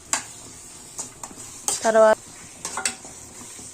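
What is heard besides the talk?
stirring prawns with chili powder in a pan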